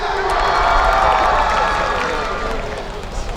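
A concert crowd at a university festival cheers and applauds for a K-pop group, loud and close, with shouts and whoops over the clapping that slowly fade toward the end.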